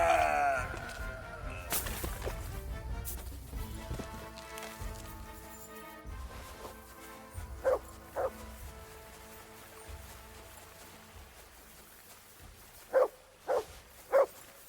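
Mutt the dog in Kingdom Come: Deliverance 2 gives several short, sharp barks, a pair midway and a quick run of three at the end, over a busy game backdrop of ambience and movement.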